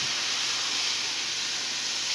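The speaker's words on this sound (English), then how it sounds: "We're going to cook that off now with our onions." Moose meat and onions sizzle in a pan, a loud, steady hiss that holds evenly from start to finish with no talking.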